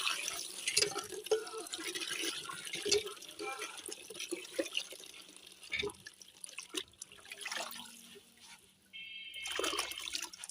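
Pumpkin leaves being washed and rubbed by hand in water, with splashing, dripping and trickling throughout, loud and close, under a speaking voice.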